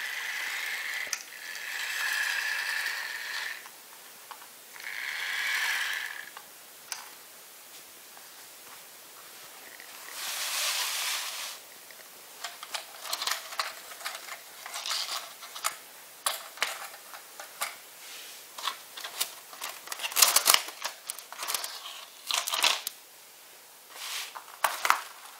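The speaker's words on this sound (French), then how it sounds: "ça c'est le bruit caractéristique de la motrice" Vintage 1966 Jouef electric toy train locomotive whirring along its track, a faint buzzing motor hum rising and fading, followed by light clicking and ticking rattles, close and quiet without speech.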